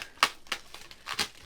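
Scissors or a blade make a few quick, sharp snips while cutting open the top of a grading-service package of sports cards, close and crisp.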